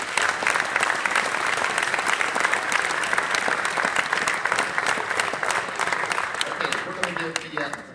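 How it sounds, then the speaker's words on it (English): Massillon Tigers football fans give a loud, sustained round of applause at a press conference for the new head coach, dense clapping filling the room with a few voices mixed in. "So give yourself a round of applause"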